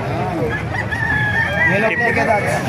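A rooster crows loudly nearby in a long wavering call, with other chickens clucking and faint voices in the background.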